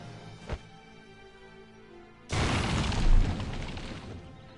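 A mortar cannon blows up in the war game Valkyria Chronicles: a loud, sudden explosion bursts in, then rolls on as a heavy, rumbling blast that swells midway and slowly trails off, with a small thud just before.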